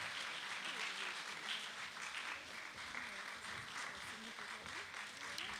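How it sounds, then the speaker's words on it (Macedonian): An audience at a nursing award ceremony applauds a nurse with steady, dense clapping that stays fairly faint and even throughout. "Ке ве молам голем аплаузи за сестра Јовка Чака"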